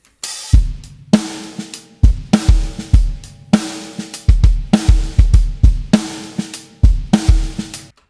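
Heavily compressed music with punchy, pumping drum hits and dense sustained tones between beats, the level repeatedly squashed and swelling back after each hit.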